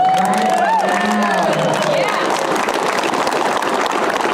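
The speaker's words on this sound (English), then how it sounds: "You guys have to give yourself a huge round of applause." A lively crowd cheers, whoops and claps loudly, with voices and shouts layered over a continuous roar of applause throughout.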